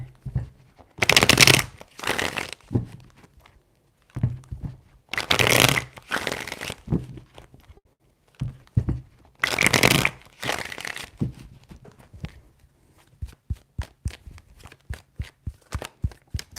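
Tarot cards are shuffled close up in three separate bursts of riffling, with quiet handling between them. A run of sharp, evenly spaced taps at the end sounds like the deck being squared or cut.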